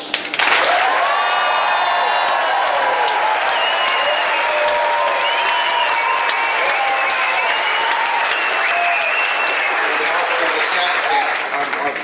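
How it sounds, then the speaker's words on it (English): An audience at the 2007 World Scout Jamboree breaks into loud sustained applause with some cheering, while a voice talks over the clapping throughout. "I'm sure the audience here would like to give you a huge round of applause."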